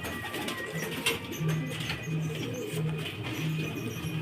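Racing pigeons coo at their loft, low repeated throaty calls at a steady rhythm roughly every half second, close by, over faint outdoor ambience.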